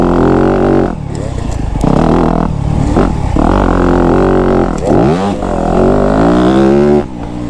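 2025 Yamaha YZ250F four-stroke dirt bike ridden on a small mini supercross track, its engine loud and close throughout with repeated revs rising and falling over jumps and brief throttle chops.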